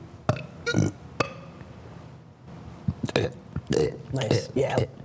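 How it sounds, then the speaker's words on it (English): A man burps repeatedly, several loud, close belches spread across a few seconds with short pauses between them, other voices chiming in around them. "You know I can unlimitedly burp?"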